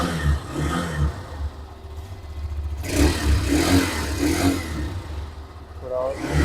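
Hero Xtreme 125R motorcycle exhaust revving in steady pulses, near and fairly loud, with someone talking over the engine throughout.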